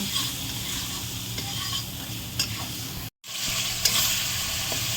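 Chopped tomatoes stirred and fried into a village-style catfish curry, a continuous close sizzle with scraping stirs of a spatula against the pan, one brief break midway, no voices.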